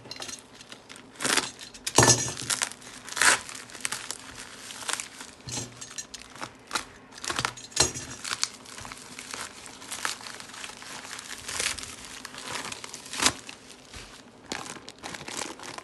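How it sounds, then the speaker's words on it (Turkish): A returned Aras Kargo parcel holding five decks of playing cards is unpacked up close, with continuous crinkling and crumpling of packaging and occasional sharp tearing and clinking sounds. "Şimdi ürünü açıyorum."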